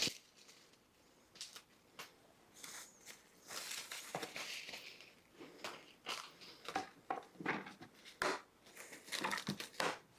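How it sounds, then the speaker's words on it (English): Plastic wrap crinkles and crackles as it is stretched over a pan of raw chicken and pork chops, a close, busy run of soft rustles and sharper snaps over about ten seconds with no talking. "I'm going to use the same plastic wrap to cover it up"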